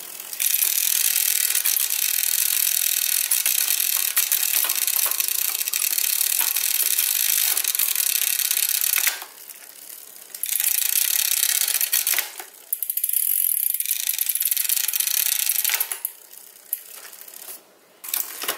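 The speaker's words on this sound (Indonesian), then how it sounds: "sekarang saatnya kita tes untuk shifting ya teman-teman. Apakah dia mau naik ke chainring terbesar apa tidak" A mechanical bicycle front derailleur shifting the chain onto the largest chainring during adjustment: continuous loud ratcheting, clicking drivetrain whir from a spinning crank, close by, broken by two brief pauses.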